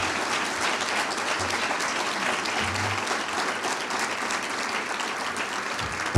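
A conference audience applauds for a foreign affairs minister, a steady, dense wash of clapping from many hands that carries on evenly throughout without a break.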